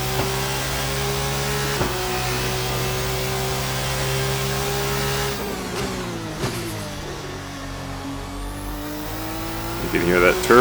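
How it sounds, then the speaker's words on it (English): A racing mod car in the Assetto Corsa sim, a fast open-wheeler, drones with a steady high-pitched engine note. Shifts and lifts break it up, followed by a thin turbo whistle and a renewed rev near the end, while a voice talks over it. "You can hear that turbo whistle there."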